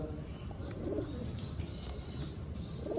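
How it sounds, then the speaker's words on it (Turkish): Pigeons coo softly and close by in a loft, with two low rolling coos separated by quiet background rustle. "Öyle görmüş olduğunuz gibi Ela kuşları sizlere yakın çekiyorum."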